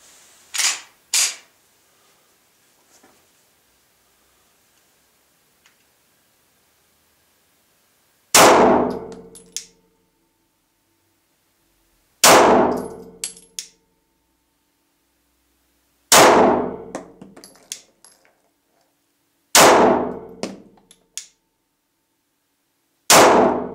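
Glock 26 Generation 4 pistol fitted with a Glock 19 barrel firing on a range: sharp, loud single shots spaced several seconds apart, each with a short ringing tail, preceded by a couple of quieter metallic clicks.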